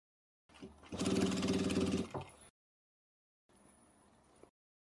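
A sewing machine stitches quilt binding: a close, steady mechanical whirr running for about two seconds, then a softer second run after a short pause.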